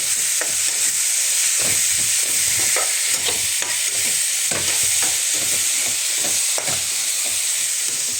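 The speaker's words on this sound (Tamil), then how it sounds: "இப்போ நல்லா மறுபடியும் ஒரு வாட்டி கிண்டிக்கிறேன்." Egg rice with onion is stirred and scraped in a hot pan, a steady loud sizzle carrying rhythmic spatula strokes and scrapes throughout, with no talking.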